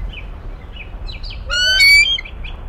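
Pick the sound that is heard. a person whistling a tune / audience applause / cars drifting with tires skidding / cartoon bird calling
cartoon bird calling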